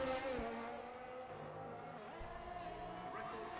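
A race car from a racing video game runs a lap in Brazil, its engine droning and shifting pitch steadily at low volume, with faint tire noise underneath.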